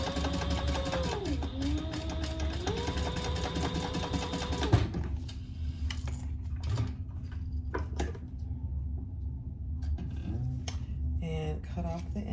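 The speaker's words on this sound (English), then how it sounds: "And then I'm just gonna top stitch." A sewing machine top stitches the edges of a fabric diaper case pouch with a zipper. It runs at a steady, close, continuous hum for about five seconds, then stops, and quieter handling noises and talk follow.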